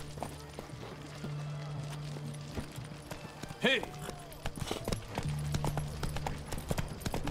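Horse hooves clip-clopping in The Witcher 3, a steady run of soft hoofbeats under someone speaking German, with a low hum and a brief whinny-like sound midway.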